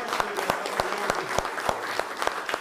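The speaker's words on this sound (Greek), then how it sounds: "Ένα δυνατό χειροκρότημα για την ορχήστρα μας." Audience applause for the orchestra at a Christmas folk music and dance event in Metaxades, Evros, Greece: scattered individual claps ring out at a steady pace over a short stretch, fairly close, with no talking.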